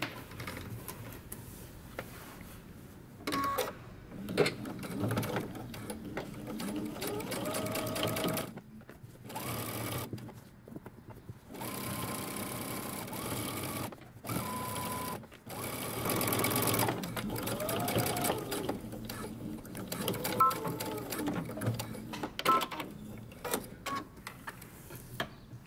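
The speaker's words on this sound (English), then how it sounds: "we're going to stitch around the neck" A sewing machine stitches around the neckline of a mini hoodie, running in bursts with short pauses between runs, its steady motor whir close and clear with no talking.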